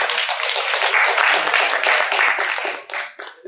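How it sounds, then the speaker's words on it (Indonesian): An audience claps together at a live streamed event, a dense, steady burst of many hands that stays loud throughout and thins slightly near the end. "Kasih tepuk tangan dulu dong."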